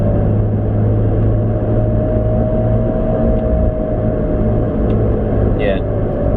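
Worn rear wheel bearing on a Nissan 350Z whining while driving, a steady tonal hum over constant loud road and engine rumble from inside the car.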